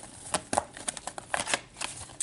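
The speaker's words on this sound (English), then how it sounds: "I was trying to shuffle" A deck of tarot cards being shuffled by hand, a run of soft riffling and flicking bursts at close range, with no talking over it.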